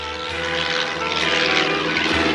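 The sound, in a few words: airplane landing, from a cartoon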